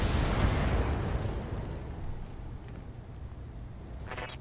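A weapon shot and explosion in the BattleTech mech combat game, heard as a loud rumbling blast that fades gradually over several seconds, followed by a faint rattling burst near the end.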